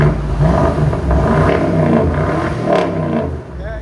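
A 2015 BMW X6 M with a 4.4-litre twin-turbo V8 and muffler delete, in Sport Plus mode, revving loudly and close: a sustained deep, raspy exhaust roar that holds steady, then eases off near the end.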